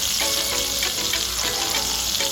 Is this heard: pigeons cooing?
no